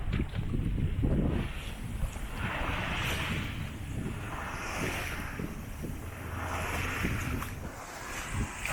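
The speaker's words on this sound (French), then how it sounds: "Il y a un bordel dans ce golfe, il y a un brouhaha de moteur, c'est impressionnant" A steady hum of motorboat engines fills the Porto Vecchio gulf off eastern Corsica, mixed with wind on the microphone and lapping water, continuous and unbroken with no voices.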